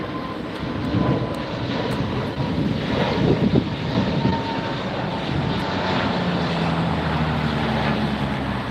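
A Frontier Airlines jet passes at Los Angeles International Airport with a steady, fairly distant engine roar mixed with wind buffeting on the microphone, holding level throughout without speech.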